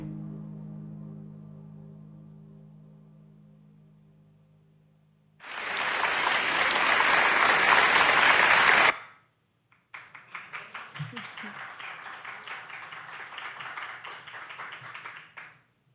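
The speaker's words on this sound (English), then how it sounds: "They kind of cut and paste the applause was from the live performance" Applause from a live music performance: a dense burst of many hands clapping cuts in after a fading instrumental tone, stops abruptly, then resumes as lighter, slightly thinner clapping that carries on to the end.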